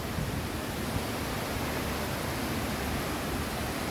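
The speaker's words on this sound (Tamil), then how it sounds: "இந்த அருவி இப்போ வந்து இங்கே கோடை காலம் என்றபடியாக மிகவும் கொஞ்சமாக தான் தண்ணி வந்து கொண்டு இருக்குது" A waterfall in Grandvillard, Switzerland, running at low summer flow, a steady, even rushing wash of falling water that holds constant throughout, with no voices.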